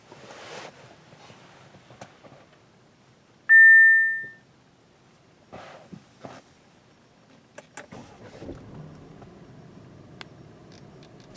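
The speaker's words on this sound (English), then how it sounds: "Startup is incredibly quiet and smooth." A 2018 Audi A5 Sportback gives a sharp electronic beep and a few soft clicks, then its push-button start brings a quiet, smooth low engine hum that settles into a steady idle.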